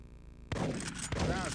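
A gunshot in the Big Buck Safari plug-and-play hunting video game, one sharp blast followed by a second close shot, loud and near against a quiet electronic hum.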